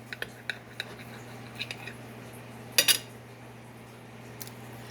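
Light clinks and scrapes of a knife and fork on a plate while a piece of New York steak is cut and picked up, a few small taps, then a sharper double clatter, all fairly quiet and without talk.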